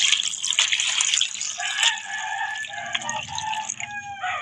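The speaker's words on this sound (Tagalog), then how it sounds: "Pagkatapos, lagyan natin ng tubig." Water pours into a cooking pot holding aninikad for ginataan, a close, splashy stream with bright gurgling that shifts pitch as the pot fills, with no talk.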